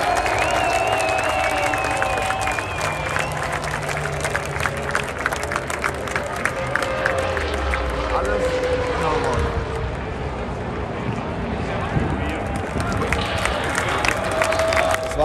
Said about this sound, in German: Da gibt es jetzt noch den Applaus.